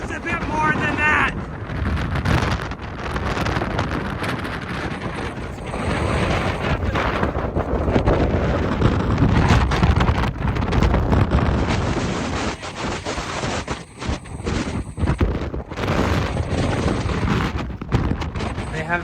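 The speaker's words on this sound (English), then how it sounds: "Everybody found it's a 23-mile-per-hour wind." Strong, steady wind buffets the microphone outdoors in Cyprus, a continuous broadband rumble and roar with gusty swells running throughout.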